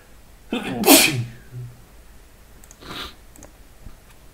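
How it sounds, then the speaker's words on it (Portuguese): A single sharp sneeze bursts out near the mic, followed by quiet shuffling and a faint click or two. "Parei para espirrar, desculpa"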